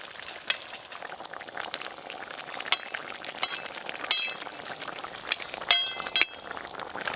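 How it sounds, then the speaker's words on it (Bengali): Rohu fish and fried eggplant simmering in a curry broth, a steady soft bubbling with scattered clinks and taps of a utensil against the pot, close and fairly quiet with no voices. "মাছ আর ভেজে রাখা বেগুন দিয়ে ঝোলটা ফুটে গেছে ভালো করে।"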